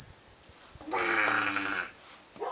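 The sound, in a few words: child imitating a tiger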